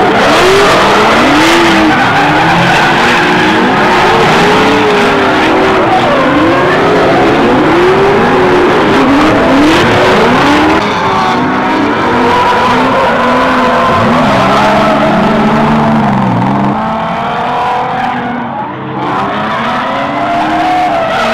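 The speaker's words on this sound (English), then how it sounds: "So I guess Caleb's not done driving because he's right on Quinn's ass." Drift cars at a desert drift event skid and rev continuously, loud tire squeal and engine howl rising and falling in waves as cars chase each other closely, with no break in the noise.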